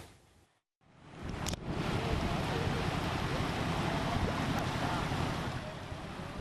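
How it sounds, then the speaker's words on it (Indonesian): Floodwater rushes through a deliberately breached tidal-flood levee toward the sea in flooded Pekalongan, a steady loud roar of flowing water mixed with wind buffeting the microphone, broken only by a brief dropout near the start. "Warga menyaksikan air mengalir ke laut setelah tanggul penahan rob sengaja dijebol"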